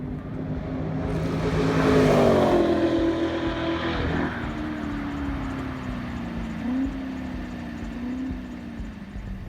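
A sports car drives on the Thompson Speedway racetrack, its engine swelling as it nears and revs, then settling into a steady, sustained drone with slight pitch shifts as it carries on.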